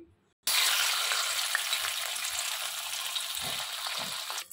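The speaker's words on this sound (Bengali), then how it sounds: "তেলটা এখন গরম হয়ে গেছে, এখন এতে আমি মাছগুলো ছাড়বো" Pabda fish dropped into hot mustard oil in a wok on a gas stove, setting off a loud, steady, close sizzle that bursts in abruptly after a brief quiet moment and continues throughout.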